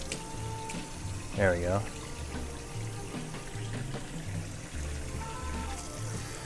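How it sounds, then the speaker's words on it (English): Water runs from a kitchen tap while a measuring cup is washed in the sink, a steady faucet flow with a few clinks, under a person's voice speaking briefly. "I need to get a cup, a measuring cup. I found one, but I gotta wash it first"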